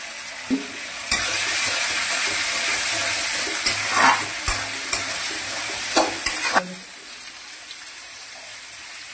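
Spices and potatoes being stirred and fried in a pan, a continuous loud sizzle with scraping knocks of the spoon scattered through it, then the frying drops to a softer hiss near the end.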